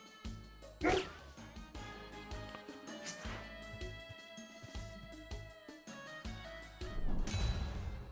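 Dog barks from an enemy in the Metal Slug Tactics video game, a few sharp yips and barks within game music and effects, with no talk.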